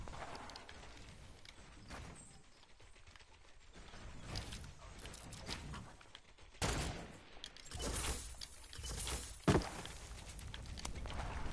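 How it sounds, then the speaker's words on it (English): Gunfire in the Fortnite video game: a loud, ragged run of shots with clattering mechanical and footstep-like noises between them, rising in bursts and ending with one sharp crack near the end. "Shots."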